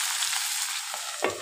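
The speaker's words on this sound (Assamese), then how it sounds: "এইখিনি মই ধুনীয়াকৈ সিজালৈকে ভাজি ল'ম" Drumsticks and potato sizzle steadily in oil in a pan over lowered gas heat, a continuous close hiss with a louder clatter of stirring near the end.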